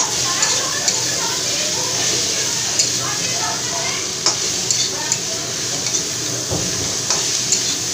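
Ingredients for a fish head curry (muri ghonto) fry in a pan with a steady sizzle, punctuated by repeated light clicks and scrapes of a stirring spoon, while someone talks over the cooking.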